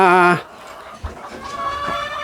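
A nine-month-old gamefowl hen clucks on a farm, a short voiced call first, then softer scattered clucks and faint noises nearby.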